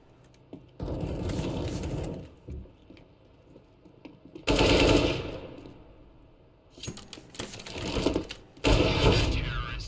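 Rapid automatic gunfire in Counter-Strike: Global Offensive, several loud sustained bursts separated by brief quieter gaps.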